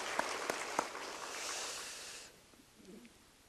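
A church congregation applauding, a broad steady wash of clapping that holds for about two seconds and then fades out abruptly into quiet room tone.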